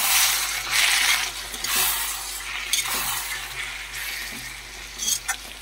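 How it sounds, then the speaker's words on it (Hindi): Spice masala for a potato, bakula bean and onion sabzi frying and being stirred in a pan, with a steady bright sizzle and repeated scraping stirs throughout. "मसाला देखिए मैं डालूंगी इसमें और हम इसको फिर से और भून लेंगे"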